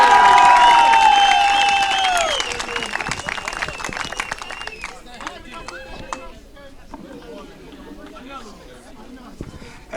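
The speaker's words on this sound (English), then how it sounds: "Let's all get a round of applause for her assistant coaches" Crowd cheering and whistling with applause at a 2018 CCCAA softball finals trophy ceremony, loud at first and then fading to clapping and chatter, with a voice on the public address.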